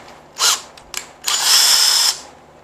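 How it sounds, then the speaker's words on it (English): A Ryobi cordless drill whirs in three bursts: a short spin, a brief blip, then a longer steady run, close and loud with no talking. "I'm just gonna throw this into my Ryobi drill"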